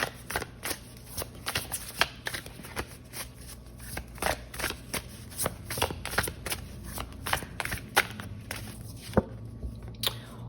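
A deck of tarot cards being shuffled by hand, producing a steady stream of crisp riffling flicks and soft slaps close up, continuing for about ten seconds with no speech.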